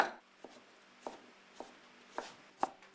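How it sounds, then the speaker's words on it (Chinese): A cleaver chops pork belly into mince on a board, with sharp, evenly spaced thuds about every half second, fairly faint and alone. "花肉剁成肉末"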